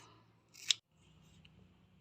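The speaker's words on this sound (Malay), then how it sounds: "Kita akan gunting dia banyak-banyak lah, bagi dia halus-halus supaya dia jadi cebisan halus" Scissors make a single crisp snip through banana peel as it is cut into small pieces, close and quiet against faint background hum.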